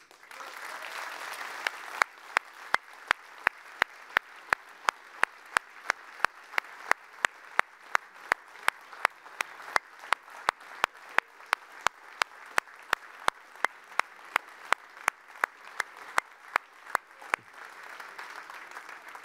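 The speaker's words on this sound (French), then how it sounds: "je vous demande vraiment d'applaudir très chaleureusement mon prédécesseur, mais aussi celui qui est mon ami, Charles Michel" Warm audience applause in a hall for Charles Michel at a New Year's speech in Brabant Wallon, a steady wash of clapping punctuated by a regular series of sharp clicks, rising again near the end.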